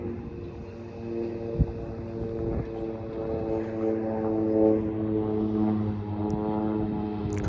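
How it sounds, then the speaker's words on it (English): A crop duster airplane passes over an alfalfa field during a dry spell, with a steady propeller engine drone that swells slightly and holds throughout. A brief thump occurs early on. "Crop duster."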